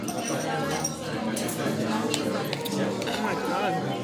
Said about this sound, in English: I just want to cut this prime rib here